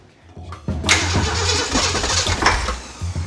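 A car engine with its timing out cranks and catches, then runs rough and uneven with sputtering surges, loud and close, without talk.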